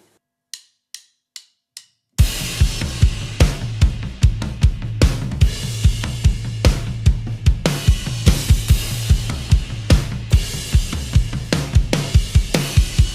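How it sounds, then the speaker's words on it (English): Full drum kit groove for a song chorus moving onto the toms, opening with a few sharp count-in clicks before steady, loud kick, snare and tom hits drive a busy, repeating rhythm up close. "Then you'll move from there into the toms to continue to have the chorus grow a little bit"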